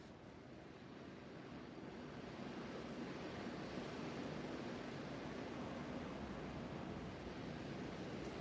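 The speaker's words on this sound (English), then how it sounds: "That wind is crazy." Strong wind blowing outdoors on an autumn night, heard as a steady, broad rushing roar that builds slightly and buffets the microphone, with no voices.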